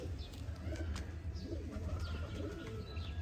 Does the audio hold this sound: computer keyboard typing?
no